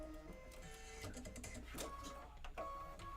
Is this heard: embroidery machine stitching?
yes